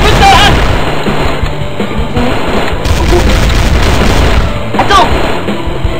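Rapid gunfire from the video game Strike Force Heroes, dense bursts of shots and booms loud and continuous across the clip, with someone speaking over the action.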